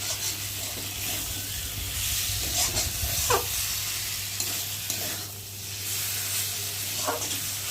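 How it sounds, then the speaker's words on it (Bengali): Spice masala for a small-fish curry with potato and eggplant fries in a pan, catching a little on the bottom: a steady close sizzle with occasional spatula scrapes, low hum beneath, no talking. "মশলা তো তলা একটু ধরে যাচ্ছে কষাতে কষাতে"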